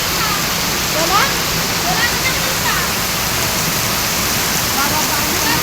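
Heavy rain, a dense, steady roar of falling water that stays loud and close throughout with no break.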